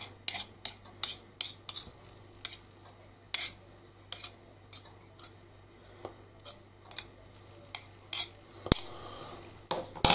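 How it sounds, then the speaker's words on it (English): A spoon scrapes and clinks against a bowl while mixing banana bread batter, sharp irregular taps spread across the stretch, close and fairly quiet over a low steady hum. "I'm going to get in with a spoon."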